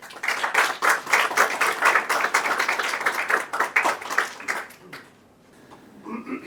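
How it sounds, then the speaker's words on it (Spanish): An assembly audience gives a warm welcoming round of applause to a professor, academic and writer, dense steady clapping for about five seconds before it fades to near silence, followed by a faint voice. "Quisiera que le diéramos un caluroso aplauso de bienvenida al profesor y académico y escritor, don Luis Receto Vigliaro."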